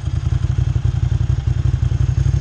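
A Bimota Mantra motorcycle engine idles at around 900 to 1000 RPM with a loud, lopey idle of steady, rapid low thumps, close and alone.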